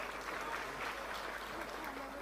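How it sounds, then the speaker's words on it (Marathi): A hall audience at a housing lottery draw breaks into louder, energetic applause, a thick continuous clatter of many clapping hands that stays steady for the short stretch. "जरा ऊर्जेने टाळ्या वाजल्या तर अजून मजा येईल. जरा जोरात."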